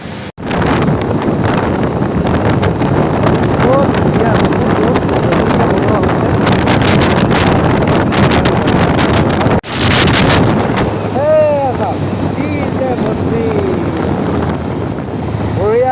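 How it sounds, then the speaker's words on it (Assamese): Steady, loud wind rush buffets the microphone while riding a motorbike outdoors on the way to Bhelughat Waterfall in Karbi Anglong, with a short dropout near the start and another just before ten seconds. "মই এতিয়া আৰম্ভ কৰিম মোৰ সোনা বাইক লৈ চলো আগে"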